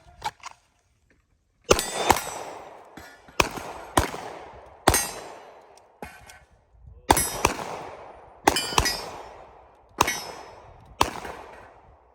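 Sharp, loud gunshots in quick pairs and bursts on a shooting range, each followed by ringing clangs as rounds strike falling steel targets, with short pauses between strings.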